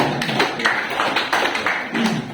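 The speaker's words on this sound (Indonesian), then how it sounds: "Berikan aplaus buat Pak Marno" Audience applause at a fire evacuation training session in a workplace hall, a dense burst of clapping that carries steadily for a couple of seconds at moderate loudness.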